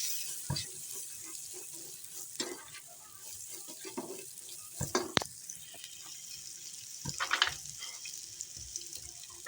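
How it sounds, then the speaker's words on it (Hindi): Finely chopped cabbage and vegetables frying in a pan with cumin for a chicken and egg vegetable soup, a faint crackling sizzle broken by scattered clinks and splashy stirring bursts. "अब हम इसमें सब्जियां भून लेंगे"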